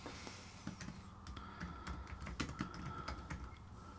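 Keys clatter on a computer keyboard as a name is typed: a quiet, irregular run of light clicks with short gaps, close by and without speech.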